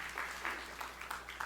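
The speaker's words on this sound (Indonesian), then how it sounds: "Tepuk tangan yang meriah untuk kemuliaan nama Tuhan." A church congregation claps during a sermon, a soft, somewhat distant patter of applause with small rhythmic swells, heard alone without speech.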